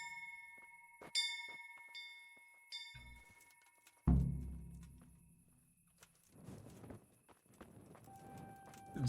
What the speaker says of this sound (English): Didn't seem like that loud of a bell.